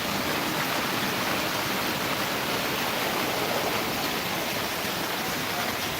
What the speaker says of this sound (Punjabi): ਕੋਠੇ ਉੱਪਰ ਦਾ ਪਾਣੀ ਜਿੱਦਾਂ ਬੋਰ ਚੱਲਦਾ ਹੁੰਦਾ ਇਦਾਂ ਹੋ ਰਿਹਾ ਜੀ